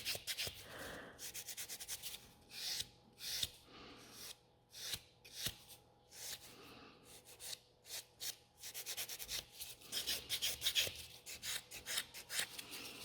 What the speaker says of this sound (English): this is the slowest filing I'm always doing on Olivia.